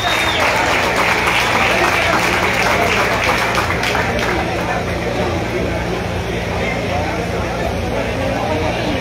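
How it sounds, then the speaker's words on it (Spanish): Applause from the audience at a snook fishing tournament prize ceremony in Catazajá, Chiapas, a steady dense clapping that lasts throughout, with voices talking over it. "Eso, el aplauso fuerte."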